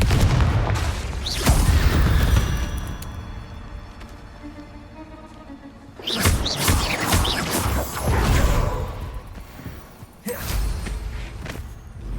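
Confringo spell explosions in Hogwarts Legacy, three loud bursts of blasting and crashing debris, each fading into quieter rumble before the next one hits.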